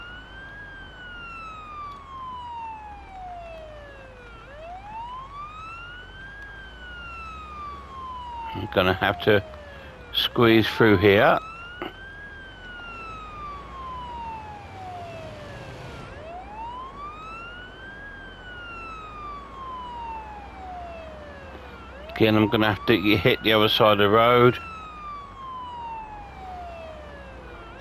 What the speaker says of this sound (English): I'm going to turn the siren off because we're at the hospital.